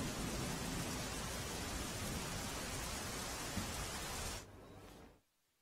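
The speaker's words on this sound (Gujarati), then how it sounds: "સુરત શહેરમાં અવિરત વરસાદ વરસી રહ્યો છે" Heavy, unbroken rain pours over Surat city streets amid waterlogging, a dense loud hiss that drops away sharply near the end.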